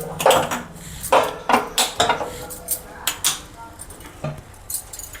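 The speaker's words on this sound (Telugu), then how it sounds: "దీనిపైన పాత్ర ఇది పెడుతున్నానండి." Metal vessel set onto a water-filled pot on a stove, producing a series of close, sharp metallic clanks, scrapes and clinks in uneven bursts as the pans knock together.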